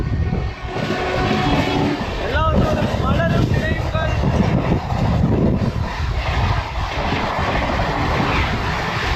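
A train rumbles loudly past near a railway line at a station in Rajasthan, a dense continuous roar with metallic squeals, while someone talks over it.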